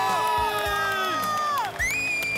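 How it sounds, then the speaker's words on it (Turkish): A studio audience at a televised masked singing competition cheers and whoops for a famous football striker, with excited shouting voices rising and falling over a bed of crowd noise and faint clapping. "Ümit Karan için kocaman bir alkış."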